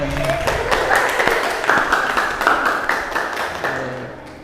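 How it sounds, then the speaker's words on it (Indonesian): An audience claps for a participant during an Indonesian lecture session, a lively burst of many hands with scattered sharp claps, fairly close and continuous for several seconds. "Tepuk tangan untuk saudara Abdurrahman."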